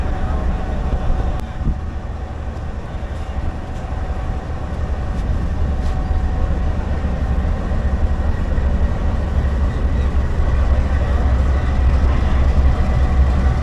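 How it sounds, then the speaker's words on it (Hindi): A Raftar railcar's heavy engine rumbles steadily and grows slightly louder as it pulls away from Lahore station, with a constant low drone and faint background noise. "फाइनली 101 अब सुबह का रफ्तार रेल कार लाहौर से रवाना हो रही है"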